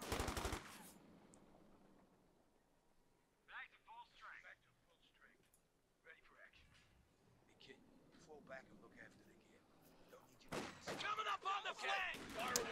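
In Company of Heroes 2, a .50 cal and an MG42 fire loud machine gun bursts at the start and again near the end, with a commentator talking quietly between them.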